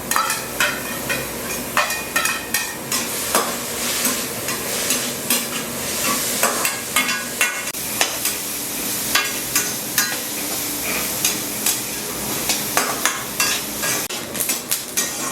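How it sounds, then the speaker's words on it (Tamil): Grated coconut roasting in ghee in a pan, stirred steadily with a metal spoon that clinks and scrapes repeatedly against the pan over a soft continuous sizzle, close and fairly loud, with no voices. "நம்ம இப்போ இந்த தேங்காயை வறுத்து எடுத்துக்கலாம்."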